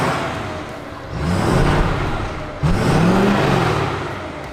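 A Ford F-250 pickup truck engine with the stock exhaust revs twice close by, each blip rising in pitch then settling back to a steady idle, loud and without speech.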